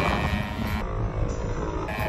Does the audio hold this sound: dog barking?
no